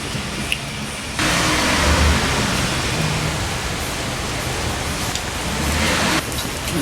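Steady rain hisses outside a garage as a broad, even wash of noise. It swells in abruptly after a quiet start and drops away again near the end.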